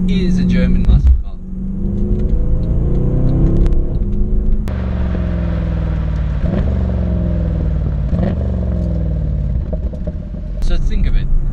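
Deep rumble of a Mercedes-Benz C63 AMG Black Series engine revving up and shifting through gears, loud from inside the car, with a person talking over it.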